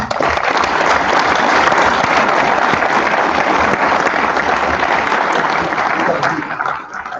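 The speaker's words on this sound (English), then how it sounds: "So if you would join me in a hand, a round of applause for them." A graduation crowd gives a loud, sustained round of applause for instructor pilots, many hands clapping steadily throughout before tapering off in the last second.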